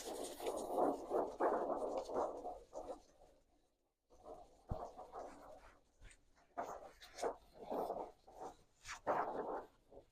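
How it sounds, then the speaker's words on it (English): Paper sheets being handled and rippled in an art studio, crisp rustling bursts close by, a brief quiet gap, then more irregular crinkling and flapping strokes. "That's the sound of rippling paper."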